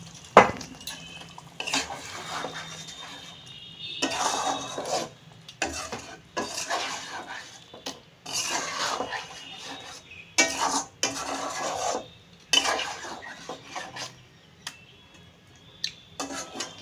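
Grated tomato added to browned chicken in a pan and stirred, with close intermittent scraping and clinking of a utensil against the pan in bursts, a faint sizzle between them, no talk.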